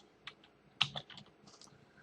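Someone types the ipconfig command on a computer keyboard at a Windows command prompt, a short run of quiet, close key clicks lasting about two seconds.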